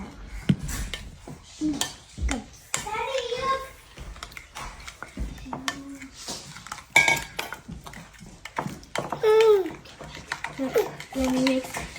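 Children mixing and mashing food in a bowl while cooking, with utensils clinking and scraping against dishes in quick irregular bursts, heard under near constant lively children's chatter.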